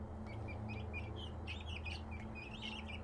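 Young chicks under a heat lamp cheep in rapid, overlapping bursts, high and close, over a steady low electrical hum that runs the whole time, with no talking.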